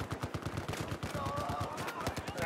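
Rapid enemy gunfire in a Battlefield 4 Gun Master match, a fast, steady stream of automatic shots at moderate distance, fairly quiet throughout.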